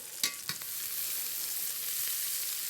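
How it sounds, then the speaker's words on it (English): Onions fry in seasoned butter alongside meat in a pan. A couple of soft knocks come as they go in, then a steady, even sizzling hiss continues with no talking. "we'll just give them a little bit of a fry."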